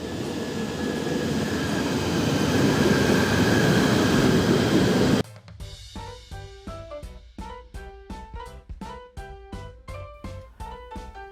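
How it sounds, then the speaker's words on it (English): A commuter train at Pulau Sebang station in Malaysia rumbles loudly in a sustained roar, then stops abruptly, giving way to a rhythmic series of electronic chimes or announcement tones. "a commuter train arrived at Pulau Sebang"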